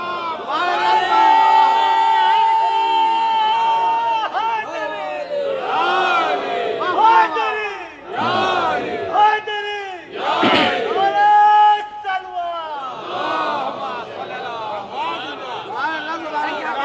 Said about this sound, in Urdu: ایک بلند آواز سے صلوات پڑھیں محمد اور آل محمد پر